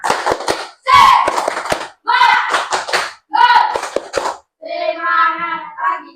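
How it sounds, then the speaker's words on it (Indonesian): A classroom of schoolchildren performs a rhythmic spirit clap, sharp claps in quick patterned bursts as they chant together in unison, ending in a long held shout. "coba tepuk semangat"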